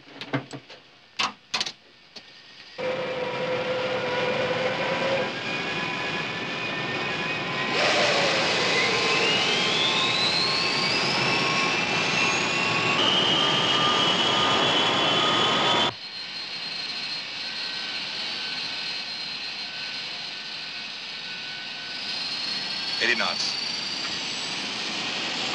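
Airplane engines during takeoff in a 1964 film soundtrack: after a few sharp clicks, a loud, sustained engine roar rises in pitch as the plane accelerates, then drops to a lower, steady drone.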